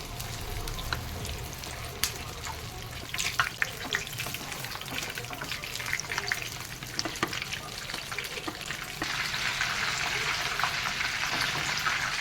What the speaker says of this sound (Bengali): গ্যাসে এই লোটে মাছটাকে লো ফ্লেমে বানাতে হবে